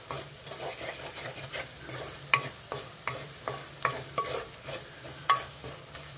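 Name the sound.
masala frying and stirring in a pan for gongura curry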